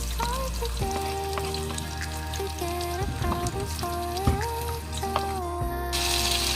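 Onion and garlic sautéing in a pan for corned beef sotanghon, a soft frying sizzle beneath a steady tonal background hum, with a few utensil scrapes and clinks.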